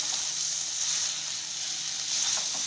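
Tomato puree ground with garlic and a red chili sizzles steadily in a pan, a continuous bright hiss that stays even throughout with no voices.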